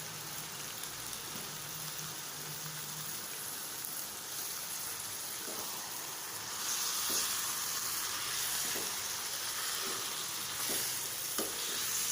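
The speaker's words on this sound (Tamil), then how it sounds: "இப்போ வந்து சிக்கன் போட்டு நம்ம வதக்கணும்" Chicken sautés in tomato-based biryani masala in oil, a dense continuous sizzle that swells louder partway through, with intermittent spoon scrapes as it is stirred, no voices.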